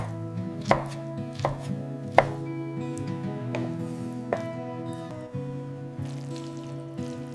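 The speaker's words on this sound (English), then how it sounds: "Finely chopping them for the filling." Wood ear mushrooms being finely chopped with a knife on a board for a stuffed melon soup filling, with a steady run of close, sharp knife taps and a few louder strikes, no talking.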